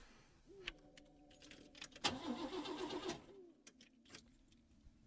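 In the video game Lorelei and the Laser Eyes, keys jangle, then a car engine cranks briefly with a stuttering whir and dies without catching, followed by quiet clicks.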